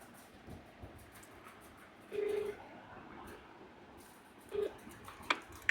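A few short telephone keypad tones sound in a quiet room during a home visit to repair a sound set, two brief beeps spaced a couple of seconds apart, faint and clean.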